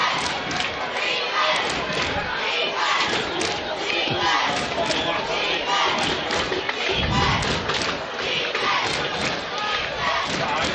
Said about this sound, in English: Crowd rumble. I can feel it.